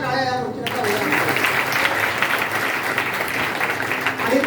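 An audience at a religious discourse on the Shrimad Bhagavat Katha breaks into loud, sustained applause right after a brief spoken phrase, the clapping continuing evenly to the end.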